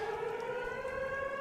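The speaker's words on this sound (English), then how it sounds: "whenever the siren is going off and you can see the entrance" A steady wailing siren in the video game MISERY, a sustained tonal drone with strong harmonics, held at an even pitch and loud throughout, with no voices over it.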